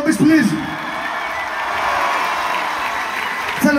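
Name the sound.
audience applauding at a live concert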